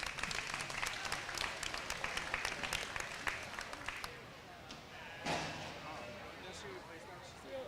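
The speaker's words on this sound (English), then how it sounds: "Let's give them all a round of applause." Crowd applause fills a livestock show arena at a county fair, steady dense clapping for about four seconds before thinning out, with a voice and scattered noise following.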